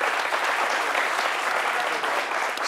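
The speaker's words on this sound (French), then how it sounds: "On vous applaudit très fort." A studio audience on a midday talk show applauds steadily for a guest, a dense, even wash of clapping throughout with no voices.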